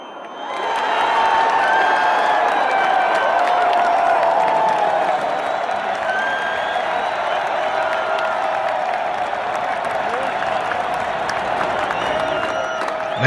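A large stadium crowd at a football event in Portland, Oregon cheers and applauds as the teams are introduced, a loud sustained roar with scattered whistles and whoops that holds steady throughout.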